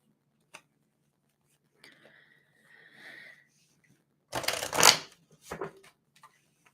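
Quiet, close riffling and soft slaps of tarot cards being shuffled, a couple of brisk bursts after a few faint taps and rustles.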